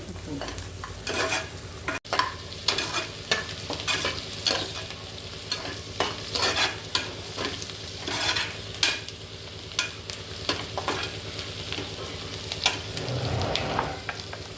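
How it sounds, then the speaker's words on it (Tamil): Onions being fried until golden in a pan, with a steady sizzle under repeated stirring scrapes from a spoon at close range, running throughout with no talk. "நல்லா வெங்காயம் நல்லா பொன்னிறமாக நல்லா வதங்கணும்."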